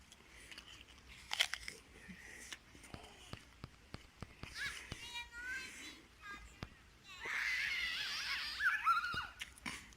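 Someone bites into and chews a soft Beauty of Bath apple outdoors in a kitchen garden in Shropshire, England. Close crunching and chewing are heard, with voices talking nearby.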